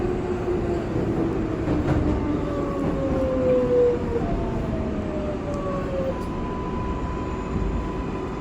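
An R142A subway train runs as a Brooklyn Bridge-bound 6 local out of 103rd Street, with a steady loud rumble of wheels and motors and rising whines from the traction motors throughout.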